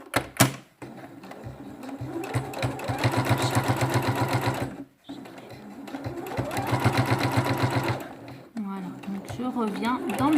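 A sewing machine stitches bias binding onto a swimsuit in two sustained runs of rapid, rhythmic needle clatter separated by a short stop, close up, with someone speaking briefly at the start and end.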